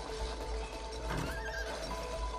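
A horse in the video game It Takes Two neighs once in the middle, the whinny rising over a steady loud game backdrop with a low hum.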